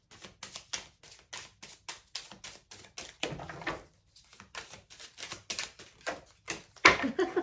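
A deck of tarot cards is shuffled by hand in quick rhythmic bursts of soft riffling taps and clicks, close and fairly quiet, with a few brief pauses and a final flurry as cards fling out.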